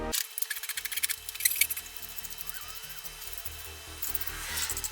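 Hand files, a rasp and knives shape a sycamore wooden spoon up close, giving a steady run of short, rhythmic scraping and rasping strokes at moderate volume with no talking.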